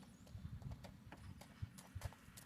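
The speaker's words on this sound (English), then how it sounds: "Here's Riviera out on the obstacle course" A four-year-old Tennessee Walking Horse mare walks an outdoor obstacle course, her hooves clip-clopping in a steady, uneven rhythm at close range. Low rumbling background noise runs beneath the hoofbeats, and no one speaks.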